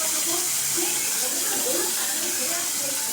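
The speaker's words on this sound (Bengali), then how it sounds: "একটু জল দিয়ে দিচ্ছি যাতে করলাটা একটু সেদ্ধ হয়ে যায়" Water poured into a pan of bitter gourd cooking with chili and turmeric powder, a steady broadband hiss and steamy sizzle running evenly throughout at moderate loudness.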